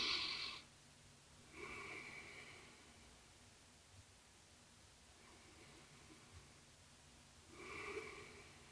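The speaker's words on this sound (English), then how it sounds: "we're going to take 3 deep breaths together" Three slow, deep breaths taken with both hands covering the ears, each a soft, breathy inhale-exhale rush spaced several seconds apart, quiet and close with near silence between.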